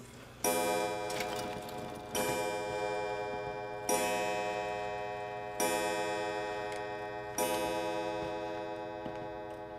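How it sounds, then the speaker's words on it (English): A pendulum clock in the Resident Evil 7 Biohazard video game, sounding five resonant chime-like strikes spaced about every two seconds, each ringing and slowly decaying, with no talk. "we need to go back and put this pendulum in the other clock"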